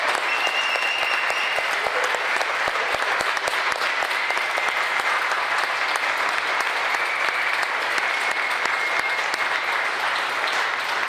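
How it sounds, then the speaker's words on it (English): Steady, dense round of audience applause at a Music Business Mondays evening with Atlantic Records, sustained at an even level throughout with a faint voice or whistle briefly audible above it. "I want to give a round of applause and thank our speakers, Pete and Zeena."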